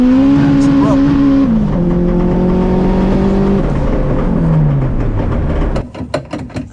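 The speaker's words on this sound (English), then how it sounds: "did a fat pull on it, third gear pull, front wheel drive" A K20-swapped, front-wheel-drive Honda CR-V pulls hard in third gear, its engine note loud and close, droning and climbing steadily before cutting off abruptly near the end, followed by a few sharp clunks.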